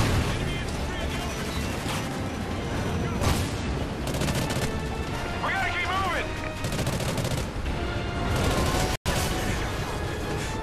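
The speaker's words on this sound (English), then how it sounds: "I'm getting shot through metal objects." Sustained gunfire in a Call of Duty: Ghosts multiplayer firefight, with dense automatic bursts and rattling shots running almost without a break, loud and steady, while a voice talks over it.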